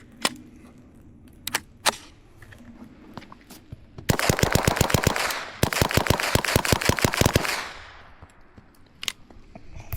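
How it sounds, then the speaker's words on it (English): An AKV, a 9mm AK-47-platform rifle, fires outdoors in two rapid strings of sharp shots, loud and close, followed by a fading echo and a few scattered clicks. "This is an AKV, AK-47 platform that is in 9mm caliber."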